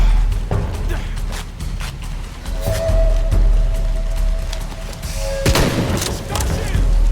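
Gunfire in the Shadow of the Tomb Raider video game, loud repeated sharp shots and booming bursts at irregular intervals, mixed with a voice talking over the action.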